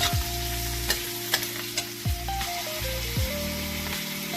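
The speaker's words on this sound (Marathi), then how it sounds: "आता त्याच्यामध्ये कांदा टाकलेला आहे कांदा पण चांगला लाल तो फ्राय करून घ्यायचा" Onion sizzles steadily in hot oil with cumin, close and loud, while a utensil scrapes and stirs the pan in a few distinct strokes.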